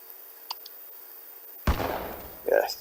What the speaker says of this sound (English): he shoots the guy.